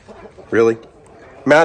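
Two short bursts of hen clucking in a barn stall, close by, separated by a quiet pause, with faint background noise between them.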